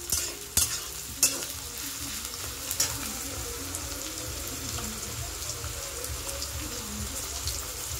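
An egg and vegetables fry in a pan, a soft steady sizzle with a few sharp clinks of stirring near the start, faint and close with no talking.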